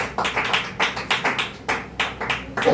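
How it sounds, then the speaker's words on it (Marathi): A congregation at a Marathi Christian prayer meeting claps in slow, regular unison. Roughly a dozen evenly spaced claps sound close and clear, with a slight acceleration near the end. "छान अशी टाळी देवासाठी वाजवू"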